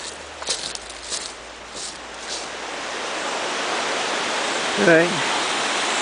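The South Fork of the Merced River rushes in a steady broadband roar close by, with footsteps on rough ground and a brief spoken word over the water.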